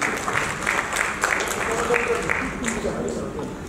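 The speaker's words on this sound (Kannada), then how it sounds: "ಸೊ ಇಡೀ ತಂಡಕ್ಕೆ ಒಂದು ಚಪ್ಪಾಳೆ" An audience applauds the Yajamana film team with steady, dense clapping throughout, heard alone at moderate loudness.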